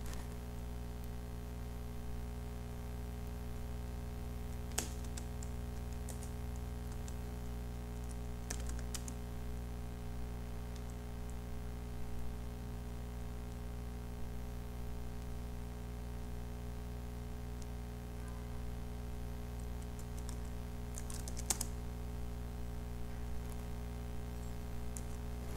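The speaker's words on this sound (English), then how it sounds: "Type the name of the customer." Someone typing on a computer keyboard, with quiet, continuous key clicks over a steady background hum and a few sharper taps standing out.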